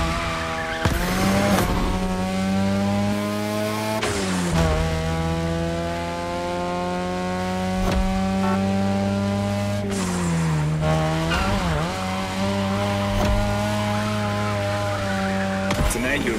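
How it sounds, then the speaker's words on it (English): A 2002 third-generation Mazda RX-7 with a rotary engine races in The Crew Motorfest driving game, its high buzzing engine note steady and loud, dipping and rising through gear shifts with occasional tire squeals. "Ride is a 3rd gen 2002 Mazda RX-7. Lightweight, compact, a sick rotary engine, and one hell of a look."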